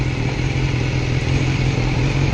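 A BMW S1000R motorcycle rides in rain mode, its engine giving a steady, loud low drone with a constant mid rumble under wind and road noise, held evenly throughout without any voices.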